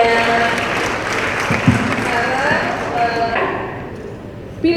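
A crowd at an Indonesian political meeting with young voters claps and cheers in a loud, busy burst, with a few voices calling out over the continuous applause.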